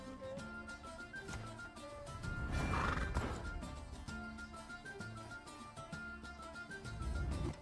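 Roach the horse whinnies in the Gwent card game, a drawn-out neigh swelling at mid-clip over soft clip-clop hooves and background game music, fairly faint with no talking.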